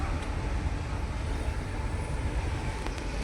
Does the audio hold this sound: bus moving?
yes